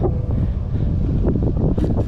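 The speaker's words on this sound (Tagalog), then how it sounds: "grabing lakas ng hangin dito" Strong wind buffets the microphone during a long-distance bicycle ride in a loud, rumbling roar that continues throughout, with gusty rustling on top.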